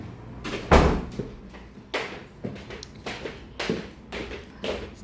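A door in a house is opened, with a loud knock or thump near the start and then several lighter clunks and rattles spread out over a few seconds, no speech.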